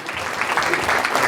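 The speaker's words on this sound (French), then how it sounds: "On va encore t'applaudir." A crowd at a 60th birthday celebration in Montréal applauds the evening's host: a short burst of steady, fairly loud clapping with voices mixed in underneath.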